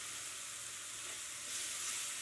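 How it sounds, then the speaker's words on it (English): Mushrooms sauté in a frying pan, a soft continuous sizzle and crackle of oil that swells slightly toward the end, close and quiet, with no talking. "it's sauteed for a little bit, and things are cooking down"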